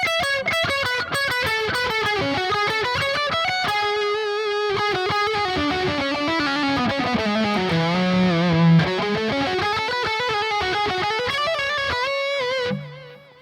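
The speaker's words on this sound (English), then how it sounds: "There's the first solo." A distorted electric guitar solo plays loud and alone, with bending, singing sustained notes climbing and falling over a steady band backing before cutting off near the end.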